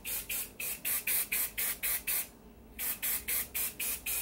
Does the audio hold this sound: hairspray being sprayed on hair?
yes